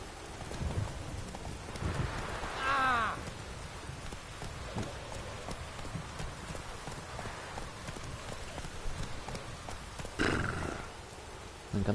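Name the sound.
horse Roach in the video game The Witcher 3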